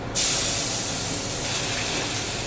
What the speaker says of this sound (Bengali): আমি কড়াইতে কালো জিরে ফোড়ন দিলাম, সামান্য একটু রসুন দিচ্ছি ফোড়ন